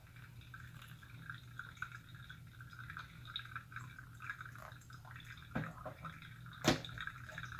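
Hot water streams over coffee grounds in a pour-over brewer, a faint continuous trickle with a soft hiss and a couple of small clinks.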